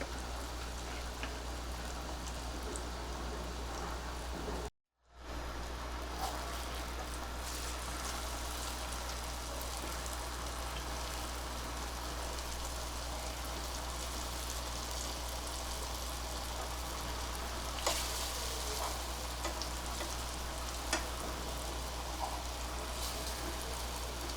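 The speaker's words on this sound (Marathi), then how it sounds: "दोन्ही बाजूनी व्यवस्थित तळून घ्यायचं शॅलो फ्राय करून घ्यायचं" Brinjal slices shallow frying in oil in a pan, a constant dense crackling sizzle close by with a low steady hum underneath, one brief dropout and a few faint clicks from turning.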